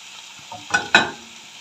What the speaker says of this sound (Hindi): अब यहाँ पर 4 बड़े साइज़ के बारीक कटे हुए टमाटर डाल रही हूँ।